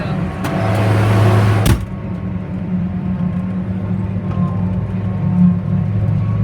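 A truck engine idles in a low, steady rumble, with a brief thump early on before the drone settles and carries on evenly to the end.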